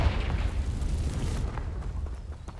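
A Confringo fire spell in Hogwarts Legacy lands with a loud, close explosive boom that rumbles and crackles, then fades over about two seconds.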